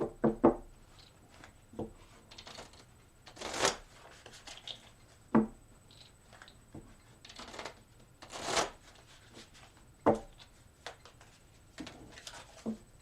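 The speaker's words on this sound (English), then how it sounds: "Let me take 3 shuffles, get the second half of that reading out." Tarot cards are shuffled repeatedly up close, crisp riffling bursts and soft slaps recurring in irregular bunches over faint background quiet.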